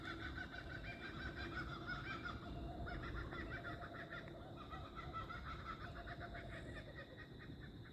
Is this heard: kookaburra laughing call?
yes